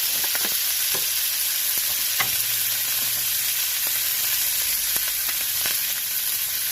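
A steak fries in a pan with rosemary, giving a loud, steady sizzle with occasional sharp pops and crackles of spattering fat, close by and with no talking.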